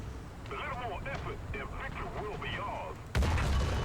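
A KV-2 tank's heavy cannon fires in War Thunder, a single loud, sudden blast near the end after steady gameplay talk from a man.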